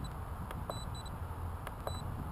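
Short electronic beeps from an RC model aircraft transmitter timer, a few brief tones spaced irregularly over a steady outdoor background hum, no talking.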